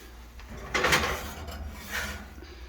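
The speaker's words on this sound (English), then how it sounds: "Open the oven door, please" An oven door in a home kitchen swings open with a wooden, drawer-like thud, then a second softer clunk follows a moment later as it moves again, close and moderately loud over a low room hum.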